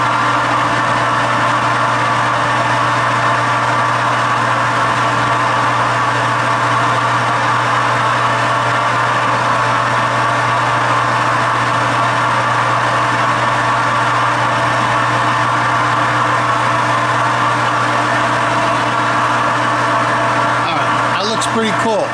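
An antique metal lathe turning slowly at low RPM while single-point threading, giving a steady, continuous mechanical hum and drone that stays constant throughout, with a brief shift right at the end.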